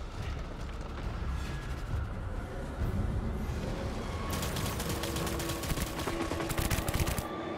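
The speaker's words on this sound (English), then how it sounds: "We'll use up this assault rifle" Assault rifle fire in Death Stranding: rapid bursts of automatic shots rattle out loudly over a noisy game backdrop, growing denser and more sustained through the second half.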